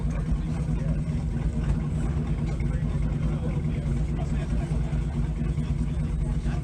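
A Ford Mustang idles at a car meet, giving a continuous, even low rumble held close and steady with no revving.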